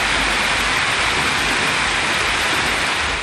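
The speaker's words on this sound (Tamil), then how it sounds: "கீழையூர், தலைஞாயிறு உள்ளிட்ட பகுதிகளில் கனமழை கொட்டியது." Heavy rain pouring steadily in Keelaiyur and Thalaignayiru, Nagapattinam district, a dense, loud, unbroken hiss of downpour with no voices over it.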